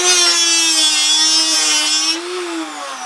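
A copper fitting cleaning machine spins and polishes a 3-inch copper fitting, giving a steady motor hum with a bright scraping overtone that drops away partway through as the tool eases off.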